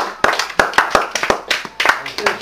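Sparse applause from a small live-music audience after a band's set, a handful of sharp close claps in an uneven rhythm, with people talking in the background.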